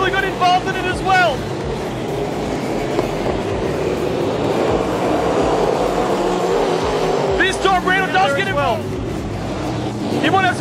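Super sedan race cars roar around Carina Speedway, their engines forming a loud, continuous surge that swells as the field passes, while a commentator talks over the action at the start and end.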